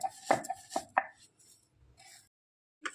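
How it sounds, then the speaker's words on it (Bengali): Peanuts being crushed on a stone grinding slab (shil-nora), several close sharp knocks and grinding rubs of the stone roller in uneven bursts, separated by pauses. "এখন শিলনোড়ায় বেটে নেব"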